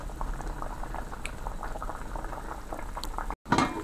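Hassan fish curry with tamarind boils in a pot, giving a continuous close bubbling and simmering fizz at moderate level, broken by a brief gap near the end followed by a short louder clatter.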